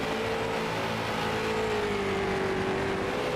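The Lucas Oil number 33 race car, a little beat up, drifts around the Irwindale track during a New Year's Eve enduro, its engine a loud continuous roar with a slowly falling pitch amid dense track noise.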